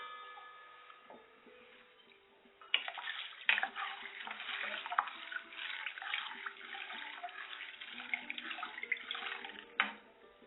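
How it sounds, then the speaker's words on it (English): Sago pearls (sabudana) being washed in water in a kitchen before soaking, with a steady close-up splashing and trickling of water, sloshing louder after the first few seconds, heard alone. "First we'll wash the sabudana, sago pearls"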